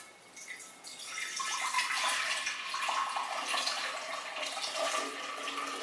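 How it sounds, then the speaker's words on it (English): Strained homemade ambrosia juice poured slowly into a gallon-sized jar, a continuous splashing, trickling stream that swells after a quiet start and keeps running steadily throughout. "we pour the juice into the jar."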